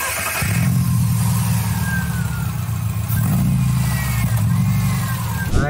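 A Subaru engine fitted in a 1977 Volkswagen bay window bus runs with a loud, close, low rumbling idle that swells into a brief rev partway through.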